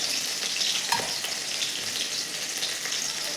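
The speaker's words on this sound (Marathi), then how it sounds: "आपलं तेल गरम झालं आहे. थोडंसं जिरं टाकून घेऊ. हिरवी मिरची टाकून घेतली आहे." Cumin seeds and green chilli fry in hot oil with a dense, crackling sizzle, a steady spitting hiss with a small knock partway through and no talking.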